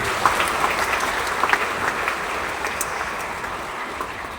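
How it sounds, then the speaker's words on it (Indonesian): A congregation applauds during a concelebrated Catholic Mass at Stella Maris Pluit church, a soft, steady wash of many hands clapping at a distance that slowly thins out. "Tepuk tangan untuk mereka."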